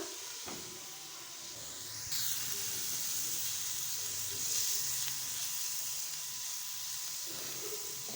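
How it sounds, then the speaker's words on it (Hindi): Fenugreek leaves fry in a pan while a spoon stirs them, giving a continuous moderate sizzle and hiss that swells slightly partway through, with no voices. "इस तरह से चम्मच चलाते हुए हमने इसको फ्राई कर लेना है थोड़ा सा।"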